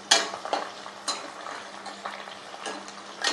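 Garlic frying in a pan for a drumstick-leaf curry, with a close, moderate sizzle broken by a few sharp spoon scrapes and clinks against the pan.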